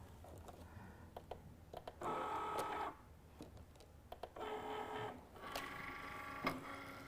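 An electronic cutting machine fitted with a fine point blade works through vellum, quiet motor whirs in stretches of a second or so alternating with short clicks and ticks as the carriage moves, close and soft.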